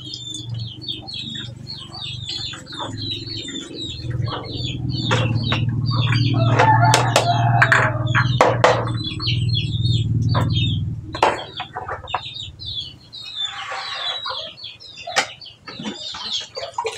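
Chickens in a coop make scattered clucks and short calls with occasional wing flaps and sharp knocks, over a low steady hum that fades midway, the sounds close and fairly loud.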